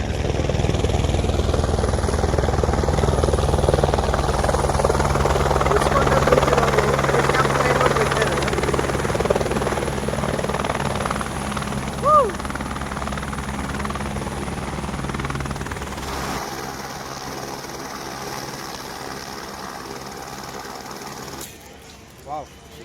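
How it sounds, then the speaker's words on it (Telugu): A helicopter lands at Rushikonda Beach with a loud, steady rotor and engine drone that continues for most of the stretch. It then drops off sharply near the end. "హెలికాప్టర్ ల్యాండ్ అవుతుంది."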